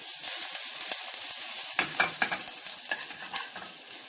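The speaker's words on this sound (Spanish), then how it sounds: "Y ahora cuando empiece a freír se le voy a añadir el ajo." Chili and then garlic frying in a pan of oil for a bacon and sage pasta sauce, a close, steady sizzle with brisk crackles and stirring clatters that pick up midway, with no voices.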